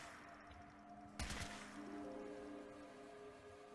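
A short burst of gunfire at a shooting range in Fallout 4, quiet and distant: a quick cluster of shots about a second in, over a low steady background hum.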